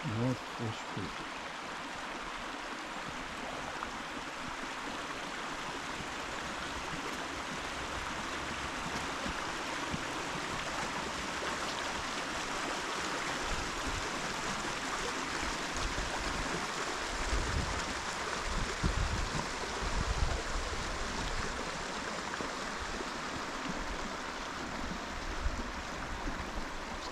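North Fish Creek flowing at Keystone Bluff, a continuous broad rush of water that stays steady and close for the whole stretch, with no voices over it.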